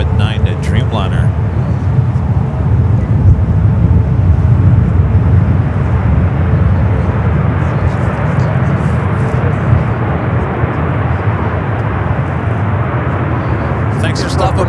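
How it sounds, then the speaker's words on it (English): A Boeing 787-9 Dreamliner arriving from Newark at San Francisco airport gives a loud, steady, broadband engine roar that fills the whole stretch without fading, with faint voices in the background. "It's the flight coming up from Newark on the 787-9 Dreamliner."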